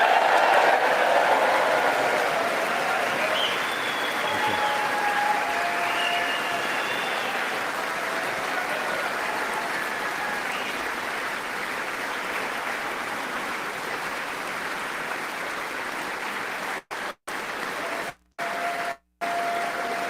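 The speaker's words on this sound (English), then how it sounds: "More applause, okay." Sustained applause fills the US House chamber as Israeli Prime Minister Benjamin Netanyahu is presented for his address. The clapping is dense and steady throughout, with a few abrupt dropouts near the end.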